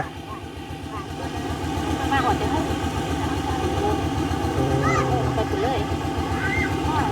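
A motor pump draws groundwater at a garden home, producing a loud, steady droning engine hum with a regular pulsing throb, while voices can be heard alongside it.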